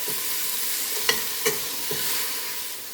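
Ingredients for Jamaican callaloo rundown sweating in a frying pan with salt, a steady close hiss and sizzle broken by a few light taps of a spoon stirring, with no voices.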